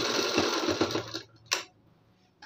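A sewing machine stitching a cord onto a blouse back neck, running steadily up close for about a second before stopping, followed by a faint click.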